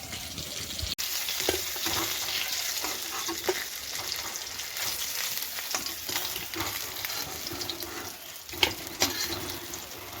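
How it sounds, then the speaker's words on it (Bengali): Pieces of fish fry in a pan with a steady, dense sizzle and crackle that runs throughout, with a few sharper pops and utensil clicks near the end and no voices. "আর দু পিস মাছ বাকি আছে ওটা আমি ভাজতে লাগবো"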